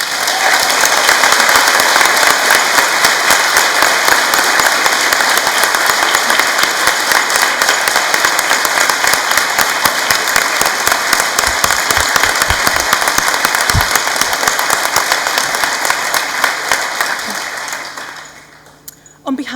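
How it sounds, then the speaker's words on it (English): A large audience at a university graduation ceremony applauds at length in a tribute to a student, a dense, steady wall of clapping that fades out near the end. "With a round of applause, please."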